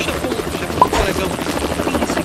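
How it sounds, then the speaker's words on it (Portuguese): A helicopter arrives in a Roblox game, with a loud, continuous, close rotor thrum and buzz throughout. "viu o helicóptero buscar a gente, será?"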